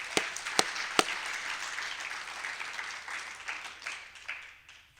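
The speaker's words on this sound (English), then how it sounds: "Let's give them a warm round of applause." An awards ceremony audience breaks into applause, a dense wash of clapping opening with a few sharp claps and gradually thinning out over several seconds.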